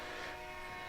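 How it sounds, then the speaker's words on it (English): A train passes in the distance as a steady, dense rumble and roar that fills the whole brief moment. It stays faint, with no voices over it. "That is a train."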